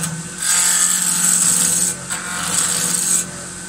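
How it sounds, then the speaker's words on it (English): A roughing gouge cuts reclaimed wood spinning on a lathe, making two sustained, rasping cutting passes with a short break between them, loud and close. "We're going to be using a roughing gouge just to rough this out into the round."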